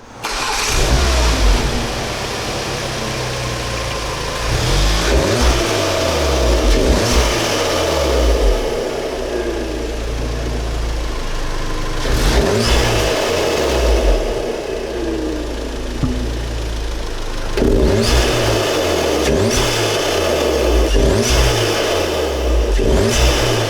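A car fitted with an APR open carbon fiber intake, revved repeatedly from idle in a series of loud, throaty bursts with intake whoosh, each rev falling back between blips, close by and without talk.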